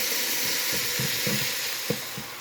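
Onions and garlic fry in a pan with a loud, continuous hiss and sizzle close up, broken by soft stirring taps, and no talking.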